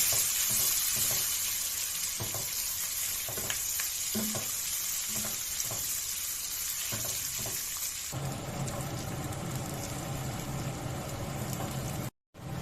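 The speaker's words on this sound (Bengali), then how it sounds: "ওর মধ্যে দিয়ে দেবো কুচে রাখা পেঁয়াজ দিয়ে ভালোভাবে নাড়তে থাকতে হবে" Chopped onions frying in a pan while being stirred, a continuous close sizzle marked by repeated scraping strokes, turning to a denser, rougher crackle partway through before stopping abruptly.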